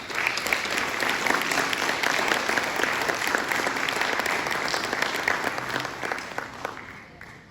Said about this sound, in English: So a big round of applause for Paula as she walks out.